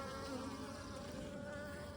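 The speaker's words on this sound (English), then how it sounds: "So these are the bees." Honeybees buzzing close by at a backyard hive during queen rearing, a steady dense hum that holds without break for the whole stretch.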